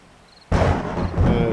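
During a thunderstorm in the survival game 7 Days to Die, a sudden loud thunderclap breaks over a quiet backdrop and rolls on as a heavy rumble.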